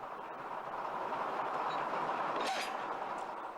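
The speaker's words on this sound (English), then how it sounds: "switching begins weeks before to make sure everything is in place in this busy yard" Railroad cars shunt through the busy Conway Scenic Railroad yard during switching, giving a steady, moderately distant rolling rumble with a faint metallic clink near the middle.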